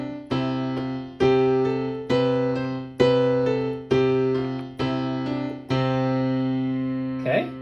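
A piano plays seven sustained chords or notes at a slow, even pace as the right hand moves through a scale-like pattern, each one struck clearly and left to ring and decay before the next.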